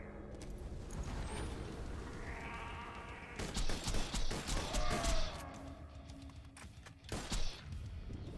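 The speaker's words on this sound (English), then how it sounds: "That was a full mag from a gun with a 200 times crit" Video game crit rifle emptying a full magazine: a dense burst of rapid shots and impacts, loud and busy, with sharper bursts rising and falling across several seconds over game background sounds.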